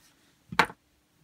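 A single short snip of scissors cutting through lightweight fabric at the hem of a doll-sized summer jacket, one crisp close cut in an otherwise quiet room.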